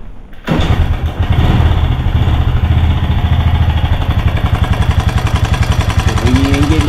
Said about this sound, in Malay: Bunyi enjin dia agak kasar.